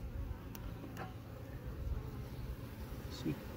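Steady buzzing of a caught swarm of dark honey bees in a hive box, close and continuous, with a couple of faint clicks and what may be a voice low underneath.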